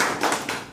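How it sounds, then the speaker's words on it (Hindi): An audience at an AWPL direct-selling plan presentation claps in a quick burst, with a few loud smacks that quickly fade away. "एक बार जोरदार तालियां बजाइए।"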